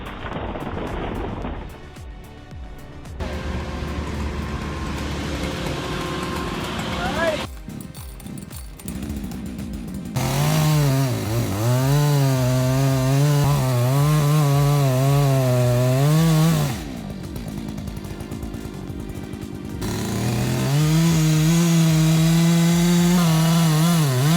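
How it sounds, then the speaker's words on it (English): A chainsaw felling a tree beside a house runs continuously and loud, its engine pitch rising and falling as it bogs into the wood and revs back up, with stretches of steady high revving. "Careful tree felling beside house demands precision and experience"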